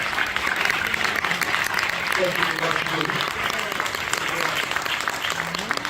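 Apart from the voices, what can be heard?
applause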